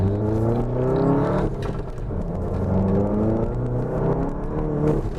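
An APR Stage 2 VW Mk7 GTI on stock mufflers accelerates hard along a back road, heard from the cabin. The engine note rises through the revs in strong sweeps with a brief dip between gears.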